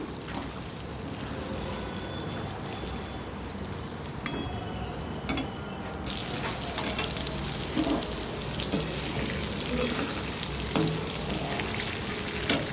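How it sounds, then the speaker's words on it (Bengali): Soybean chunks frying in oil in a pan for vegetarian biryani, a steady loud sizzle that grows harsher and denser partway through, with a few clinks of utensils. "এবার ওই তেলের ওপরেই সয়াবিনগুলো আমি ভেজে নেব।"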